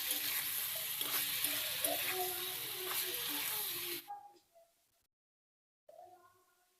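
Ridge gourd sautéing in a pan with chilli, turmeric and salt: a steady close sizzle with stirring scrapes for about four seconds, then it drops away to near silence before a brief clatter returns.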